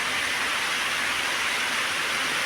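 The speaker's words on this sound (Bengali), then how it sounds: "মুসলধারে বৃষ্টি হচ্ছে জিনাইদার মাটিতে" Steady heavy downpour of rain falling in Jhenaidah, a dense continuous hiss with no break, fairly loud and close, with no voices.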